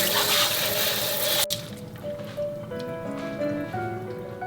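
Running water splashes loudly at first while raw chicken is rinsed, then gives way to softer trickling and dripping with light handling sounds; no speech.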